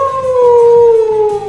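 A person imitates a wolf howl with one long, loud, steady wail that glides slowly downward, with a second voice faintly underneath.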